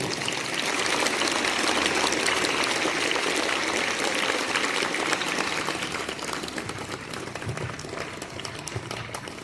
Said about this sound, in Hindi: आप सभी से आग्रह करता हूं कि एक बार ताली बजा दें सर एजाज के लिए